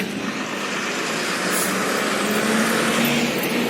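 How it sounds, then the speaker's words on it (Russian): Steady roar of traffic on a city avenue, with cars and heavier vehicles passing close by in a continuous loud wash and no pauses. "Здесь у нас проспект идет. Машина ездит."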